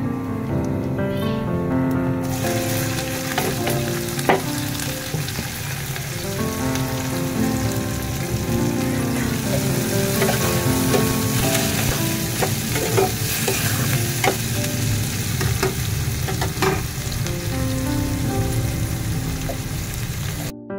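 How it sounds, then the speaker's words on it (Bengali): Chopped onions frying with whole spices including black cardamom for moong dal, a steady loud sizzle with repeated stirring scrapes in the pan, no talking. "আমার পেঁয়াজ ভাজা হয়ে গেছে"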